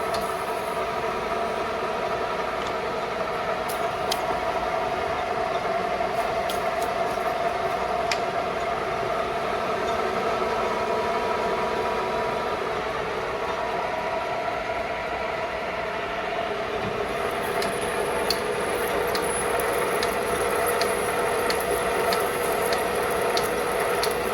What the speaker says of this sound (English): Pretty big depth to cut for this lathe.